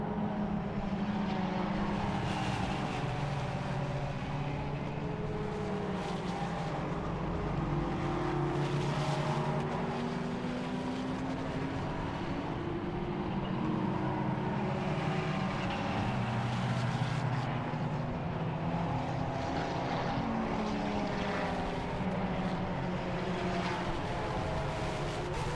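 Race cars lapping the Silverstone International circuit, including Ginetta and Porsche machines in an endurance race, produce a steady blend of engine roar rising and falling as they pass at a distance, continuous throughout.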